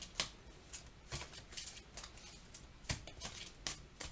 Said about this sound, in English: So I'm going to shuffle just a little bit.